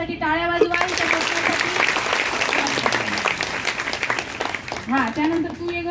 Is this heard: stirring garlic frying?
no